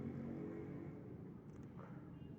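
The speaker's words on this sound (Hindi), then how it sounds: "सराउंडिंग्स में जो साउंड आ रही हैं ट्रैफिक की, उसके लिए माफ़ी चाहूँगा।" Faint surrounding street traffic rumbles low and steady in the background, with a passing vehicle's hum swelling slightly.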